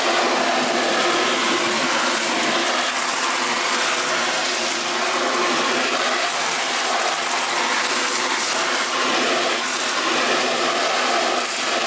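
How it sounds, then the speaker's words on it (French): Shower water pouring steadily onto an item being cleaned in a bathroom, a continuous loud hissing gush with no talking throughout. "Pour le nettoyer comme il faut, je vais le mettre sous la douche."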